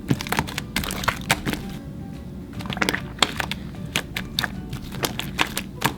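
Water slime mixed by hand gives off rapid, close crackling and popping, dense irregular clicks that continue throughout with no talking.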